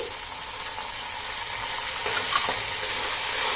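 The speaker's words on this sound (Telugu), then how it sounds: "ఇప్పుడు దీంట్లో నేను ముందుగా ఒలిచిపెట్టుకున్న స్వీట్ కార్న్, నానబెట్టి ఉంచుకున్న పచ్చి శనగపప్పు, పెసరపప్పు వేసుకొని బాగా కలుపుకోవాలి" Sweet corn with soaked chana dal and moong dal frying in a spiced oil tempering for a Telugu upma-style tiffin, a steady close sizzle with faint stirring scrapes and no voices.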